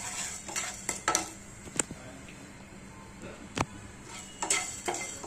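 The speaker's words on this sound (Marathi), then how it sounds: "आता हे लांबडे तांदूळ भाजून घेते" Long-grain rice is roasted in a pan, with dry grains rustling and a spoon or spatula clinking sharply against the metal several times, the scrapes coming in irregular bursts over a faint background.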